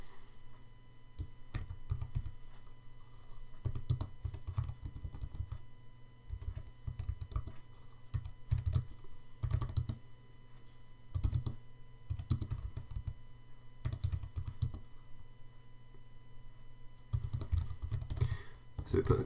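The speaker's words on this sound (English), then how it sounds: "we could type in the question" Someone types a quiz question on a computer keyboard in quiet bursts of rapid key clicks separated by short pauses, fairly close and soft.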